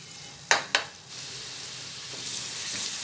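Oil heats in a pot for one-pot rice. Two quick metallic clanks of cookware are followed by a soft, steady sizzle that gradually builds.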